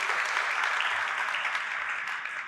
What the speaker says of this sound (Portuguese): Mais uma salva de palmas para esse casal querido